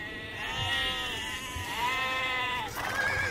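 Sheep bleat in an Age of Empires II Definitive Edition match, a few wavering, nasal cries that follow one another closely over steady game ambience, with no talk.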